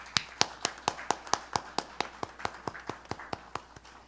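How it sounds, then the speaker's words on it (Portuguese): Audience at an academic commemoration gives applause that sounds like a single pair of hands: sharp, evenly spaced claps in a steady rhythm, close and fairly loud, about eighteen in four seconds. "Palmas para Ieda Prates Bernes"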